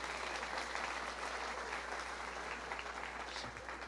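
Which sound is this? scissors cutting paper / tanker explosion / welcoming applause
welcoming applause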